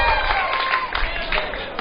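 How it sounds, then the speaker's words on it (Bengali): Applause from a quiz program audience, a short burst of crowd clapping with some cheering, sustained and moderately loud for under two seconds. "হাততালি হোক"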